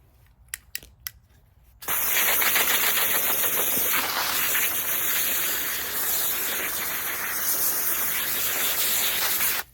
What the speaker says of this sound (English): I'm going to rinse off these cannas and see what the rhizomes look like.